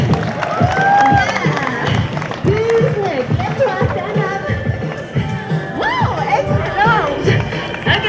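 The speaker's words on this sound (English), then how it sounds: "Everybody give her a big clap." A lively crowd in Old Quebec claps and cheers for a performer with whoops and shouts, continuous and close, with voices talking through it.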